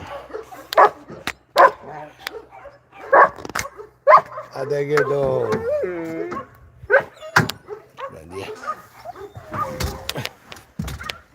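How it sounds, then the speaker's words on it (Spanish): Dogs being walked bark and yip in short sharp bursts, with whimpering in between, while a person talks intermittently in Spanish. "Los paseantes con los perros."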